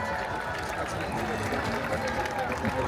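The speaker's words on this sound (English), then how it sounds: "The whole crowd goes wild." A dense crowd cheers and roars continuously at a Fourth of July fireworks show outside Caesars in Las Vegas, a loud, steady wash of voices with whoops mixed in, close and sustained throughout.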